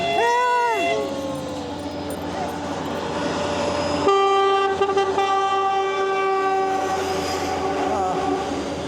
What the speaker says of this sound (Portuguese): O trem, quando passa hoje aqui, ele buzina, ó. Ele toca o apito em homenagem